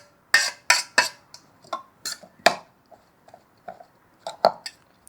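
Spinach chopped in the bowl of an electric chopper being scraped down, a run of sharp clattering knocks and scrapes of a utensil against the plastic bowl, irregular and close, with quiet gaps between.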